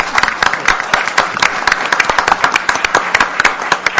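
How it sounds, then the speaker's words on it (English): Loud, close audience applause at a policy forum after a pitch competition panel, with a thick wash of overlapping claps and sharp individual hand strikes continuing for the whole stretch. "Let's give them a round of applause"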